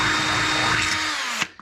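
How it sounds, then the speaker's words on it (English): A power drill fitted with a 5/16 bit bores a hole through the frame of a Renogy solar panel for a van roof rack. It gives a loud steady whine that slows and drops in pitch, then ends with a couple of clunks. "we'll take our 5/16 drill bit and drill the big hole"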